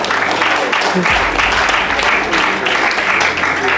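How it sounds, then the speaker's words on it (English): Audience applause at an international film festival event in Hyderabad, a sustained dense round of clapping filling the room at steady loudness from start to finish. "round of applause for sir"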